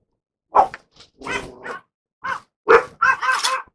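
Dogs bark in a home kitchen while someone cooks state fair fried foods, giving several short, loud barks and yips in uneven bursts over a few seconds.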